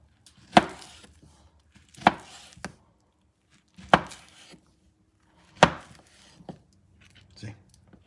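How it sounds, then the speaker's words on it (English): A knife cuts through ripe plantains in sharp, separate chops onto a board, roughly every one and a half to two seconds, each chop with a quick lighter tap after it, heard close and clear with no talking. "See how ripe? And you're going to cut it in slices."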